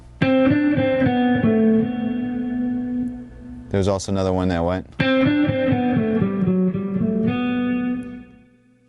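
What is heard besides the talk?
electric guitar sixteenth-note picking exercise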